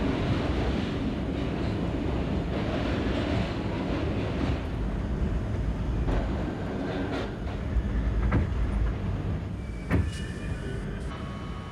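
An R38 subway car on the A line rumbles along the tracks with a loud, continuous roar, with clanks and rattles from the wheels and joints breaking through the steady noise and no talking.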